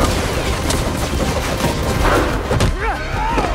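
Rapid bursts of machine gun fire from a One Piece anime sound loud and dense with booming impacts, while people react and talk over the action.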